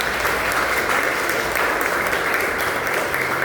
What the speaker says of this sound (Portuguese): Vão ser recebidos com as palmas de vocês.